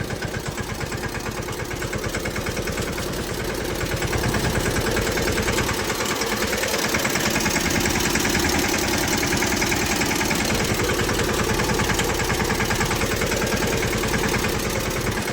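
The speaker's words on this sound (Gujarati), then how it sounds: "જુઓ તમે એકવાર એક ટ્રેક્ટર હજી પાછળ આવે છે." A tractor engine runs on a rough, muddy farm road, a steady, close, rumbling drone with a vibrating, knocking texture that grows slightly louder partway through and never lets up.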